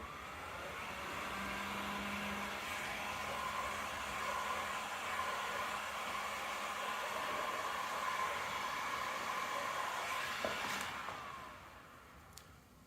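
A heat gun runs with a steady, close, blowing whoosh for about ten seconds while it heats shrink wrap on a tumbler mug, then winds down, with a faint tonal hum beneath.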